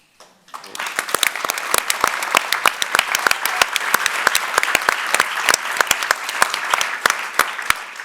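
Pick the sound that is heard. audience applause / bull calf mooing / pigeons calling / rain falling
audience applause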